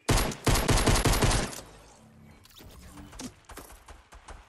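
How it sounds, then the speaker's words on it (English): Fortnite gunfire opens with a loud rapid burst of shots lasting over a second, then thins to scattered quieter shots and game noises. "Oh, there's people shooting at us."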